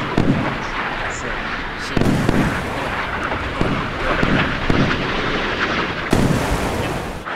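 Missile explosions rumble through a naval battle between Kidd and Sovremenny destroyers in the game Sea Power, a dense continuous roar with several heavier booming impacts, under a speaking voice.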